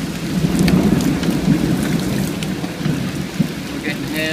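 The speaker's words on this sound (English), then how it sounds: "We're getting hail and serious wind right now." Hail and serious wind of a storm, with gusts around 50 mph, roar loudly and continuously, with dense pattering hits throughout and no pause.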